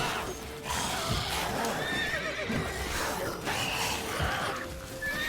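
A horse in the video game The Witcher 3 whinnies loudly and close, with hooves clopping and shuffling under a layer of game ambience; a second neigh rises near the end.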